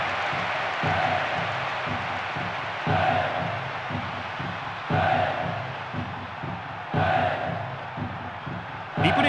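A video game stadium crowd in J.League Perfect Striker 2 roars after a goal, a continuous dense cheer that swells in recurring waves every couple of seconds.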